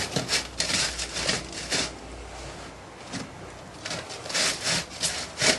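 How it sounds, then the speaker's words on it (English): Used foundry sand, full of brass and aluminium bits, is shaken through a riddle sieve in repeated rough scraping strokes. The grainy rasping is close and fairly loud, with no voices. "the sand that goes against the pattern is going to be put through a riddle"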